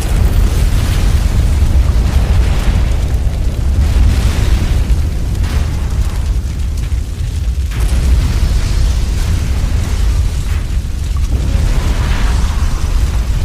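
A massive chain of cavern explosions from fuelled autominer cradles, deep rolling booms and bursts piling on one another continuously and loudly, with repeated fresh blasts rumbling through a low roar and no voices.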